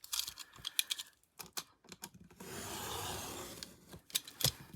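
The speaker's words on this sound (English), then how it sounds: "I'm just going to use my ruler and trim that off" Blade scrapes and drags along a ruler edge while trimming excess card for an 8 x 8 inch album cover, with scattered clicks and rustles and a longer steady rasping stretch midway, close and fairly loud.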